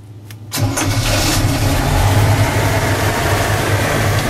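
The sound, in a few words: airboat engine starting with ignition key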